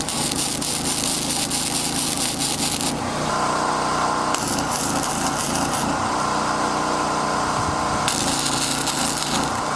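Metal stock being cut into short lengths for bushings on a front end loader build, a continuous harsh grinding saw noise with shifts in pitch as the cut changes, no talk.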